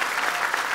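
Audience applause at a women's club gathering in Armenia, a dense steady wash of many hands clapping together, loud and continuous without a break.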